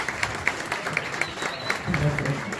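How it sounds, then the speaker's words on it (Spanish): A TV variety show studio audience applauds for a couple of seconds, moderate and slightly distant, mixed with a voice and crowd murmur. "Fuerte ese aplauso entonces para Carlos y Duque."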